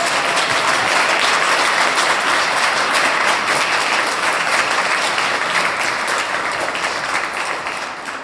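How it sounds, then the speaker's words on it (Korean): A large audience at an English academy's vision ceremony breaks into a big, sustained round of applause, dense steady clapping filling the room and tapering only slightly toward the end. "큰 박수로."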